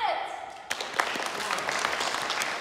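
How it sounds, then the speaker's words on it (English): Audience applause for a Hamlet performance at Kronborg Castle in Helsingør starts abruptly and continues as dense, steady clapping from a crowd, with a voice briefly heard at the start. "let us all give a round of applause for our beloved Prince Hamlet!"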